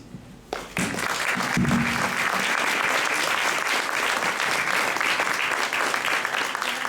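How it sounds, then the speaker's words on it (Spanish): After a brief quiet start, a conference audience breaks into sustained, full applause that stays loud and steady to the end, many hands clapping as one dense, continuous patter. "Más fuerte, por favor, el aplauso"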